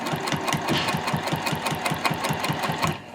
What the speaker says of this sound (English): So back at the machine again, and now I'm just going to sew that top stitching in